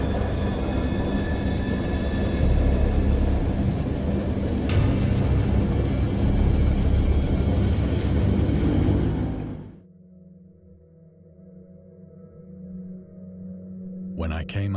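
A wild thunderstorm with heavy, steady rain roars loudly, thunder rumbling low beneath the downpour before the storm drops away abruptly to a faint murmur.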